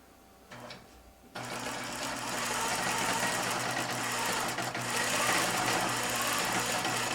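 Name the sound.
embroidery sewing machine stitching a flower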